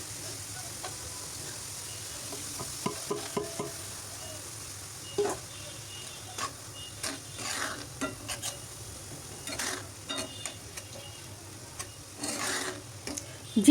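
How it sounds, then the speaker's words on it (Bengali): Lentils and rice fry in a pan while a spoon stirs them, giving intermittent scraping strokes that grow busier over a steady low sizzle, close and without talk. "চাল দিয়ে খুব ভালোভাবে কষাতে থাকব একদম ভাজতে থাকব অনবরত নেড়ে চেড়ে"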